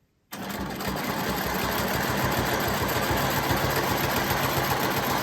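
A sewing machine stitches through layered quilt fabric in a steady, close, continuous mechanical whir that starts abruptly after a brief silence and runs without a break.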